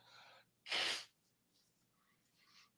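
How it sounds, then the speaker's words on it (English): A single sharp, forceful nasal burst, like blowing the nose, with brief softer breathy sounds before and after. "Let me blow my nose for a second"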